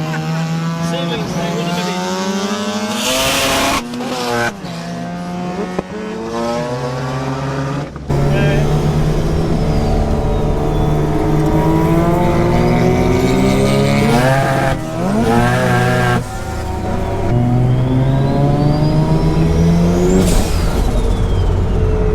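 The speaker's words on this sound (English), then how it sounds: "we do a couple of hot laps in POO12A, Rob's 13B powered RX3" A Mazda 808 RX3 sedan race car with a turbocharged 13B rotary engine runs hot laps, its loud, rasping engine revving up and down through repeated gear changes and sweeping pitch rises for the whole stretch, with speech faintly present.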